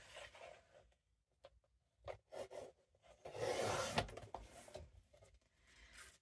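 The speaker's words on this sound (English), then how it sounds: "So let's do some cutting." Scissors cutting through vintage book pages at close range, soft rasping snips in short separate bursts with quiet pauses between, then a longer louder cut near the middle.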